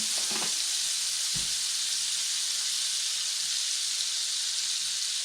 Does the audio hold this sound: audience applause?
no